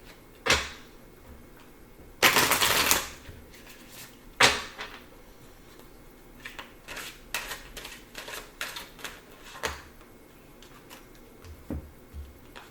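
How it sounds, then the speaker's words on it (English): Tarot cards are shuffled in bursts of riffling and slapping, with a loud flurry of shuffling followed by scattered softer taps and clicks of cards being handled. "One more shuffle."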